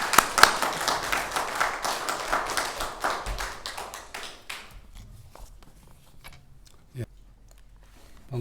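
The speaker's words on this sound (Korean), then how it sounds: "박수로 환영하시겠습니다" A church congregation claps to welcome a visiting missionary to the front, a dense burst of hand claps that thins out and fades into scattered claps and footsteps, with a few knocks near the end.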